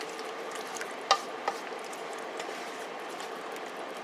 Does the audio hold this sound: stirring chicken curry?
yes